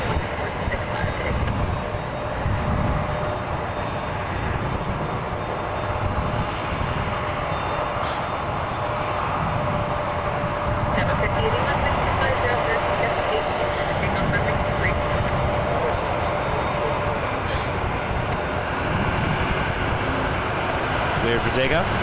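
An Endeavor Air CRJ900 regional jet takes off from runway 23 at Toronto Pearson Airport, a loud steady broadband engine roar that holds for over twenty seconds, with radio or commentary voices over it.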